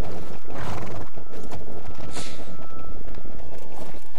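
A horse in the Alicia Online video game gives a loud, close whinny over a steady clatter of hooves, with a second neigh following, all without speech.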